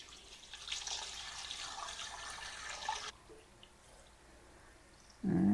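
Water pours steadily into the pot of an electric pressure cooker for about three seconds, then stops, leaving a quiet room before a brief thump at the end.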